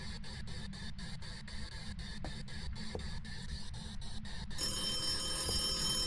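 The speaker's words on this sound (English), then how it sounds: "The phone just rang." Telephone ringing in a video game, a fast regular electronic trill pulsing for about four and a half seconds over a low rumble, then giving way to a steadier buzzing tone.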